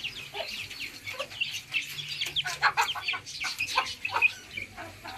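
Chickens eating salad in summer heat cluck and chirp busily at close range, with short irregular calls overlapping in quick bursts throughout.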